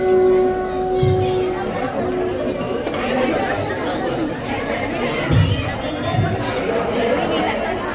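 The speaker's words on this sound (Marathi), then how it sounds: "हा दीपोत्सव पाहण्यासाठी नागरिकांनी मोठी गर्दी केली" A large crowd of citizens gathered at a lamp festival (Deepotsav), chattering steadily nearby, with a few thumps and clinks among the murmur of voices.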